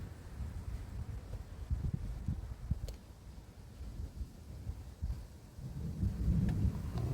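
Low rumbling thunder rolls in the distance amid wind and light rain, faint at first and swelling toward the end.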